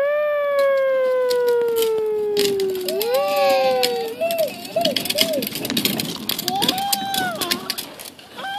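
A voice imitates a siren, a long falling wail followed by rising and falling whoops, with faint background noise.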